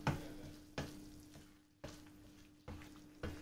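Vegetable pieces are stirred in a hot pan with salt, chili powder and turmeric, giving a steady sizzle broken by periodic scraping strokes about once a second, close up.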